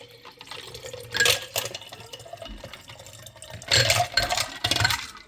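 Water is poured by hand over ice into a Kyoto-style cold brew drip tower, with two bursts of splashing trickle separated by quieter dripping and clinking, close and fairly loud.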